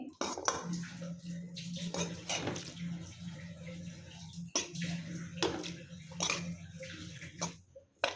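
Ivy gourd pieces coated in spices are stirred in a metal pan while cooking. A spoon scrapes and clinks against the pan in an uneven rhythm, with soft wet sizzling and a low background hum. The sounds are faint and close.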